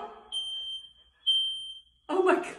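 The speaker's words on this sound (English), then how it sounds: "Why is the alarm going off? Is there a fire?" A smoke alarm, set off by a smoking toilet, sounds in loud piercing high-pitched beeps, two long tones in a row, while people talk and shout excitedly over and between them.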